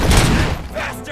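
A single loud, close gunshot blast with a booming tail from the video game RoboCop: Rogue City, followed by a softer second report.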